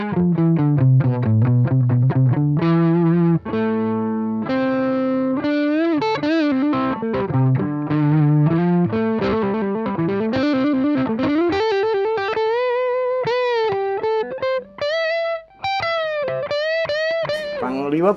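Distorted electric guitar through a Peavey Envoy 110 combo amp with reverb switched on plays a continuous melodic phrase, loud and sustained with reverb tails between notes.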